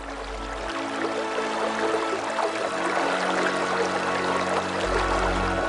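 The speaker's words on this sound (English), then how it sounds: "the gate to these docks was opened to let in the water" Water rushes steadily into a shipyard dock as its gate opens, a continuous loud pouring and churning flow with no break, close and alone without voices.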